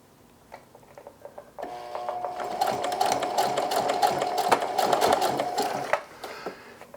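A sewing machine runs steadily for about four seconds while back stitching the hem of denim jeans. The hum and rapid needle tapping start abruptly and stop abruptly, with faint handling clicks before and after.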